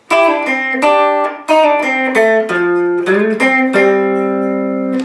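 Guitar plays the intro to a song: a few clear, ringing strummed chords and picked notes, close and loud, changing every half second or so, with the last chord left to sustain.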